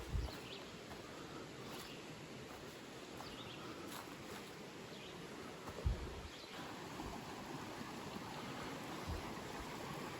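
Bear Creek flows near Parker, Pennsylvania, giving a faint, steady wash of running water across a wooded trail, with a few soft knocks and rustles close by.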